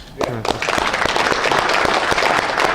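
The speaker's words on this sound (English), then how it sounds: "Can we do a round of applause?" A round of applause at a family event, a burst of clapping from a small group that starts after a brief voice and continues steadily, with a few louder claps standing out.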